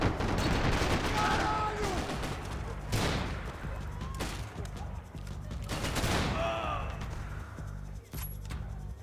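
Bursts of AK rifle gunfire and heavy shooting fill a firefight in Max Payne 3, dense and continuous, with a few louder blasts and faint voices under the noise.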